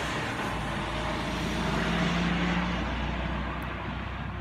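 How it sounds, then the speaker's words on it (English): A truck drives past on a nearby road on a lazy Sunday, a steady loud engine rumble with a low droning hum holding throughout and no voices. "Trucks are loud when they go by."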